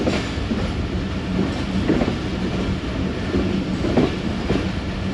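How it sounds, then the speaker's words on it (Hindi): The Rehman Baba Express rolls toward Jhelum railway station with a steady, loud rumble of wheels and carriages, broken by faint rhythmic clacks over the rail joints. "48 डाउन रहमान बाबा एक्सप्रेस झेलम रेलवे स्टेशन पे अप्रोच कर रही है।"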